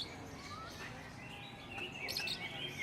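A caged songbird at a bird-singing contest gives faint, quick chirps and short tweets against a soft murmuring background.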